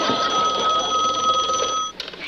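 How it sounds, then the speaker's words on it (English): A bell telephone rings in one loud, sustained trill that stops abruptly, followed by a faint clatter, as in an indoor sitcom scene. "Your phone's ringing."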